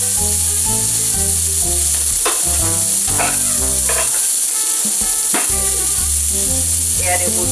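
Stuffed burger frying in a pan under a lid, giving a loud, continuous sizzle that hisses steadily throughout, with music playing underneath.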